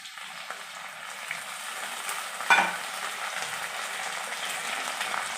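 Whole cumin and ginger-garlic paste drop into a pan of onions and potatoes already fried red, bringing a steady close sizzle and frying crackle with one brief louder splash of stirring partway through.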